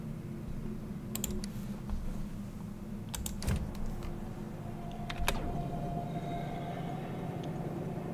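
A train runs in the factory-building game Factorio, a steady low rail rumble with scattered sharp clicks and ticks over it, fairly loud and constant throughout.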